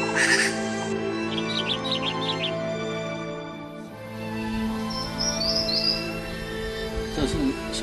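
A pygmy wren-babbler, an endemic bird of Taiwan, gives high thin calls in a forest setting, repeated short notes against a steady ambient hum, moderately close and clear.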